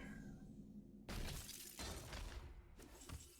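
A shield shatters in a video game with a loud burst of breaking-glass crashes, several sharp hits in quick succession over a quiet background.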